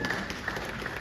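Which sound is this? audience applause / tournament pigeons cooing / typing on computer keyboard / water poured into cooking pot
audience applause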